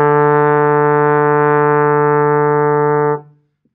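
A trombone sounds a single sustained D in fourth position, a steady, full brass tone held loud for about three seconds before it cuts off cleanly into silence.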